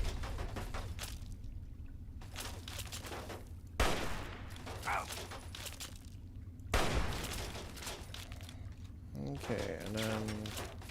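Gunfire while fighting a turret in Fallout 3, with rapid bursts of shots and two heavier booming impacts over a continuous crackling din, and a voice talking faintly underneath.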